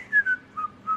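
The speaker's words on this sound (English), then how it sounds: "I drive her nuts with the whistling." A person whistles a short melodic phrase of four clear notes, close and fairly quiet, with no talking.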